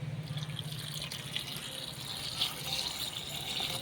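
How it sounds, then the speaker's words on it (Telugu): Water poured from a vessel over eggplants in a cooking pot, a soft continuous splashing trickle close by and fairly quiet, with no talking. "వంకాయలు మునిగేంత వరకు నీళ్ళు అయితే పోసినా."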